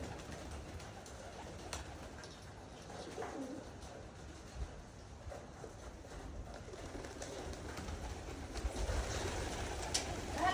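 Pigeons and small birds, including sparrows, gather at an outdoor feeding spot where bread is scattered. Soft cooing and scattered chirps sit over a steady ambient wash, with occasional brief flutters and no talking.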